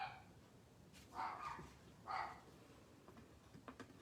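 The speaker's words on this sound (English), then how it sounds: "Can you hear my dogs up there? They're upstairs having fun apparently without me." Dogs bark upstairs in a house, two short muffled yips heard faintly from another floor, followed by small soft sounds in a quiet room.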